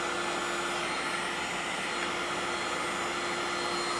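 Ecarke cordless heat gun running on a DeWalt 20V battery, blowing hot air steadily and close, a constant broadband whoosh with a faint fan whine that holds unchanged throughout.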